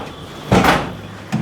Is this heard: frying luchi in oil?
no